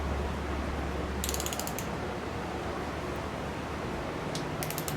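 Torque wrench ratcheting on main bearing cap bolts of a Toyota 2.2 5S-FE engine during a budget rebuild, with two short bursts of rapid metallic clicks over steady loud background noise.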